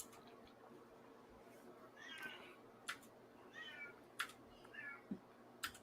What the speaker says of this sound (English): There's a kitty in the background.